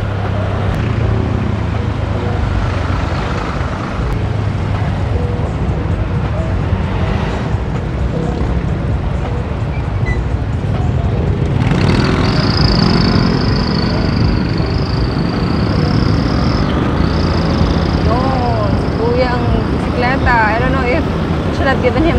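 A car pulls away from a stoplight and drives along the road, its engine and road noise a steady, loud drone throughout, with a voice talking inside the cabin.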